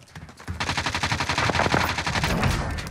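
Rapid automatic gunfire from an online first-person shooter, a Kilo assault rifle firing a sustained fast burst of loud, close shots that runs almost without pause.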